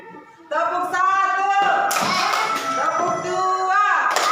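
Rhythmic hand clapping from a class of children in a classroom, a steady run of claps mixed with young voices chanting or talking along, fairly loud and close throughout.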